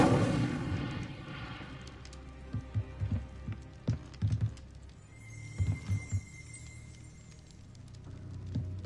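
The Incendio fire spell cast in Hogwarts Legacy bursts out in a series of soft whooshing thumps and crackles, several clustered impacts over a low rumbling background, moderately faint and with no talking.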